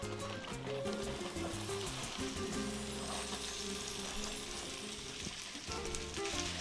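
Potatoes sizzle in a frying pan for a Mexican breakfast of migas with papitas, a soft, steady crackle heard at moderate distance, with a tonal hum running beneath it.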